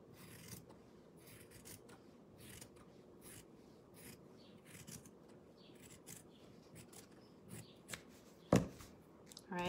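Scissors snipping through folded fabric for a faux lemon garland, heard as scattered soft, close cuts and rustles over a low background hum, with one sharper snip near the end.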